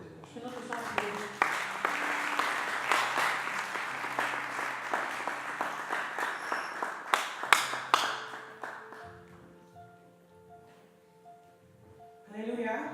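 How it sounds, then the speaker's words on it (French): An audience claps together at a church service for a new season, a loud run of applause with sharp claps over music for about nine seconds, then fading as a sustained instrumental tone continues. "Laten we klappen voor dit."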